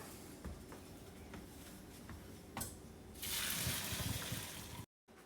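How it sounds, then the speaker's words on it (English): Water pours and splashes steadily as cooked chickpeas are strained, growing louder into a broad rushing gush near the end, with a few clinks and knocks along the way. "So we're gonna strain it and remove the water."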